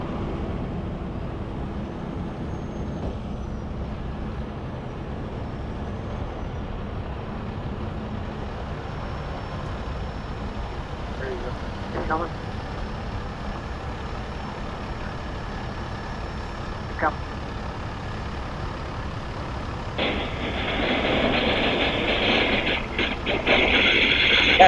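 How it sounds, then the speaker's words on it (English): A semi truck engine rumbles steadily and close throughout at a rollover recovery, with a broadband roar swelling near the end and a voice talking over it. "Your truck is too loud, Darrell"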